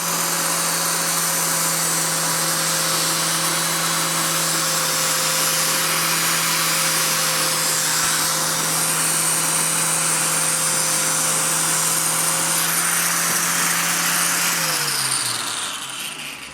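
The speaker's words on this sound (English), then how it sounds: "turn on your bench grinder, and then if you hold it here" A bench grinder working a metal pannier support rack piece for a Royal Enfield Himalayan, a loud steady motor whine with abrasive grinding noise that runs continuously close by before the tone drops as it winds down at the end.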